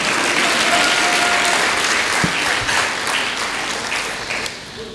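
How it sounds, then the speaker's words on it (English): Sustained audience applause fills a church-style gathering after a call to clap for a speaker, dense and steady for the whole stretch before easing slightly at the end, with no talk over it. "So can we clap for Dr. Nelly for not being normal?"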